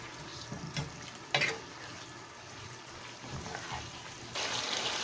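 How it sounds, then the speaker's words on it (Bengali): Fried chicken pieces are stirred into a cooked spice paste in a pan, giving a soft sizzle with scraping and clattering stirring noises and a brighter hiss rising near the end. "চিকেনগুলো দিয়ে আমি হালকা একটু মশলার সাথে মাখিয়ে নেব।"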